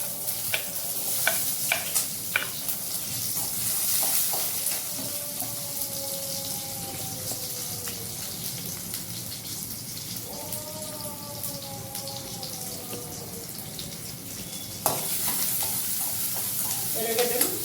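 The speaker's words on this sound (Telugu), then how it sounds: "ఇప్పుడు ఎర్రగడ్డలు వేసుకుంటాను." Onions frying in a pan for a spicy Telugu dish, with a steady broadband sizzle and crackle running throughout, occasional stirring clatter and a brief tap-water rush near the end, no voices.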